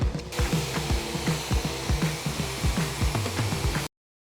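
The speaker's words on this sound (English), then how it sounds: "Let us spray." A sprayer applies finish to a barn wood beam mantel. It gives a close, hissing spray with a rapid pulsing rhythm that runs steadily for a few seconds, then cuts off abruptly.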